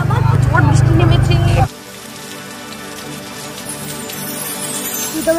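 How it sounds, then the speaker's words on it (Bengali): Heavy rain falls at night. A loud voice is heard briefly at the start, then a steady, dense hiss of rain continues close by. "বৃষ্টি নেমেছে।"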